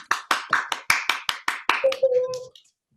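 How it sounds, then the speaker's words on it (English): An online audience applauding with a round of claps at the end of a virtual education event: a quick run of about a dozen sharp, fairly close claps, followed by a brief tonal ping as it fades out. "give everyone a big round of applause and a huge kind of virtual thank you"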